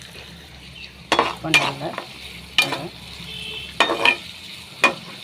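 Onions and green chilli being stirred and sautéed in a hot pan, with repeated scraping strokes over a steady sizzle; a few brief spoken words come in between.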